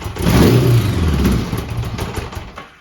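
A 1980s Honda GL1100 motorcycle engine runs close by, loud and rumbling at first, then settling to a lower, uneven idle that fades near the end.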